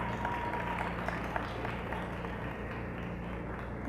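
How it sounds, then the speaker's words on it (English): A banquet audience at a high school athletic awards event applauds in a steady, dense wash of clapping that carries evenly from start to finish. "please give these young ladies a round of applause"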